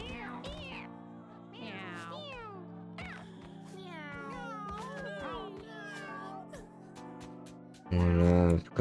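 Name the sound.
cats meowing in video game Mewgenics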